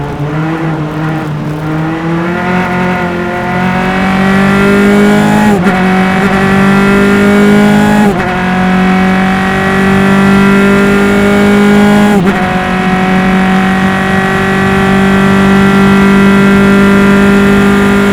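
Single-seater club race car at Mid-Ohio during an SCCA IT Spectacular race, engine droning loud and close with a steady high-revving tone, brief dips at gear changes, then holding sustained revs for the whole stretch.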